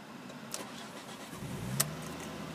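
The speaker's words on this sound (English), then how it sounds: "Car starts perfectly fine," An orange Ford Focus ST 2 with a 2.5 litre petrol engine cranks briefly and catches, then settles into a steady, close idle.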